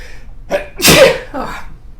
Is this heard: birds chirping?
no